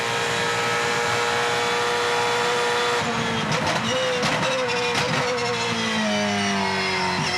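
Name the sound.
race car engine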